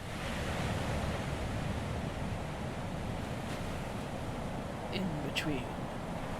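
Steady ocean surf on a summer shoreline in the game Our Life: Beginnings and Always, a soft continuous wash of breaking waves. A voice speaks briefly near the end.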